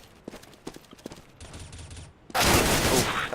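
Gunfire in a competitive video game match replay: a few sharp isolated shots, then a sudden loud, sustained burst of rapid fire that dominates the end.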